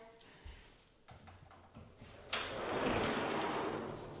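A pocket door slides along its track with a soft rolling whoosh that swells and lingers, preceded by a few light knocks and clicks.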